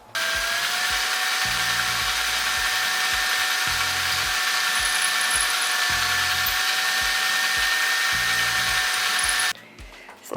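Power drill boring holes, a loud sustained high motor whine with stuttering low-end pulses as the bit bites, running nearly ten seconds before cutting off abruptly.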